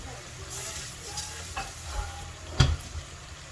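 Garlic and beef sizzle in a frying pan while being stirred for Mongolian beef, a steady close crackle with soft scraping and one sharper clink of utensil against the pan near the end.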